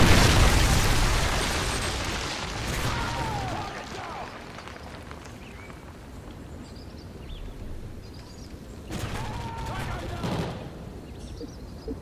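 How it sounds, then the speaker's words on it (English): An explosion from a Predator missile in Call of Duty: MW3 opens with a loud roaring blast that fades slowly, then a second smaller burst rumbles later among scattered game noise. "Predator missile inbound."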